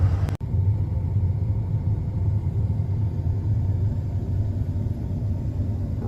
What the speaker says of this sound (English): It's like Ivan Stewart's off-road in a combine